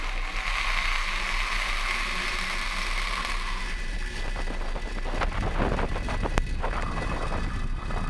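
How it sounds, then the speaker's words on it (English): Falcon 9 rocket lift-off: a steady broadband roar builds over several seconds, with rising rumble and crackle from about the midpoint, heard at a distance under wind noise. "Lift off of the Falcon 9."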